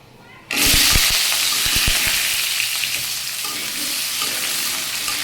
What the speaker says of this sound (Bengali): আলুটাকে বেশ ভালো করে কষিয়ে নেব